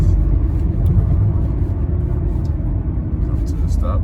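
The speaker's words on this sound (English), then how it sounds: "Now I'm gonna do a little slight acceleration on it" A 2008 Lexus 350 accelerates gently, its steady low engine and road rumble heard from inside the cabin with no clear rise in revs.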